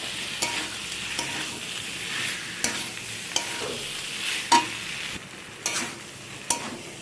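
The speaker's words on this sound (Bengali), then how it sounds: "এখন এঁচোড় আলু সব আমি এর মধ্যে দিয়ে দিলাম, দিয়ে সব কিছুকে আবারও একসাথে ভালো করে কষিয়ে নেব।" Jackfruit and potatoes are stir-fried in spice paste, with a soft steady sizzle under repeated spatula scrapes and taps against the pan, all heard close up and without talk.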